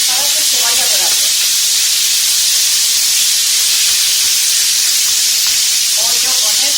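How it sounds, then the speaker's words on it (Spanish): Chicken pieces for a paella sizzle in hot oil over reduced heat, a steady loud broadband hiss throughout with faint crackles, no talk heard. "Vamos a echar el pollo para que se vaya dorando."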